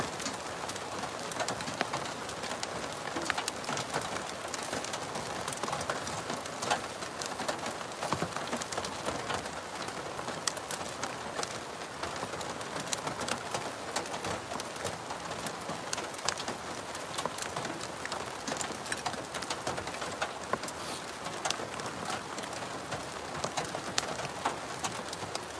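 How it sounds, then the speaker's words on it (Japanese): Heavy rain pours outdoors in a mountain camp setting, a dense, steady hiss of drops hitting surfaces that stays constant throughout, with faint bird calls in the background. "雨の強さが尋常じゃない。"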